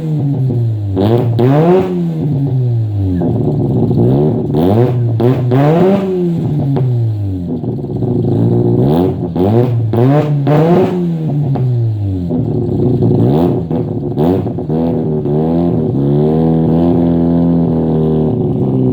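A Mazda RX-7 FD rotary engine with a 3k RPM hesitation revs hard in repeated loud, close bursts, pitch climbing and falling with each blip before holding a steady high rev near the end.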